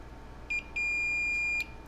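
A multimeter in continuity mode beeps while probing a laptop motherboard: one short tone followed by a longer sustained tone of about a second, steady and clear against a quiet background with no talking.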